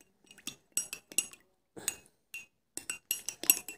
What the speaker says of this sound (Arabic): خدي منه معلقة وابدأي حطيها على النص كوب من زيت جونسون